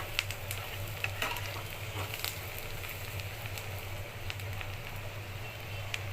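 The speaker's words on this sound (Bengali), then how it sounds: "পেঁয়াজটা হালকা ভাজা হয়ে গিয়েছে, আরেকটু ভেজে নিব।" Sliced onion fries in foaming mustard oil for a dried lotia fish dish, giving a steady close sizzle with scattered crackles and pops and occasional stirring sounds, no talking.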